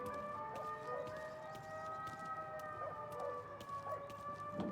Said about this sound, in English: hearing the ambulance siren